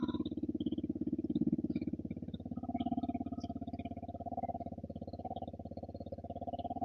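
A Bajaj Dominar 250 motorcycle, ridden daily in town, idles steadily close by with a rapid, even thumping beat and a low rumble that swells slightly a few times.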